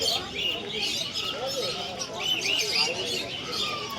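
Pigeons coo and chirp at a busy rural livestock market, faint bird calls mixed into a dense hubbub of crowd chatter and people talking.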